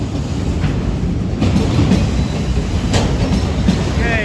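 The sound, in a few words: freight train passing grade crossing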